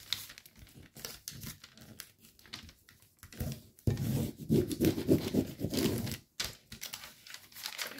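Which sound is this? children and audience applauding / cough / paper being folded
paper being folded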